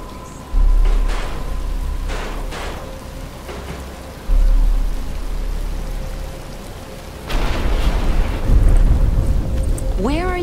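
Steady rain pours in the Batman: Return to Arkham video game, a constant wash of falling drops with low rumbling swells that come and go, and a faint whooshing sweep near the end.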